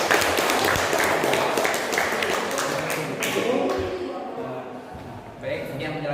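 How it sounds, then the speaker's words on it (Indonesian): A class claps for a student group during a floor gymnastics lesson, the applause steady and moderately loud before it thins out, with voices mixed in. "Tepuk tangan untuk kelompok"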